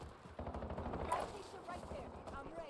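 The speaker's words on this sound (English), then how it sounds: "just run right into the gunfire" Gunfire from the video game Call of Duty: Warzone, rapid shots rattling faintly and continuously under a person talking.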